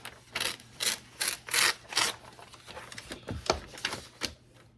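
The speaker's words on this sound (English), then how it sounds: "I'm just going to tear this page out." A page torn out of a small Dollar Tree notebook during a craft session, giving a run of several loud, broadband ripping and rustling bursts close by, followed by softer paper handling.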